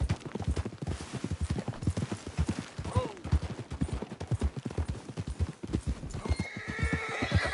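In a video game, rapid hoofbeats clatter in a steady galloping rhythm, with a horse's whinny cutting through midway and a faint high squeal near the end.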